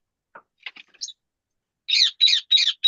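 Two cockatoos sharing one cage give a few brief scattered chirps, then a run of four loud, harsh, close squawks in quick succession.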